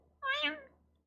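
A person voices a single imitation of a cat's meow, a clear rising-then-falling mew about half a second long, close and alone against near silence.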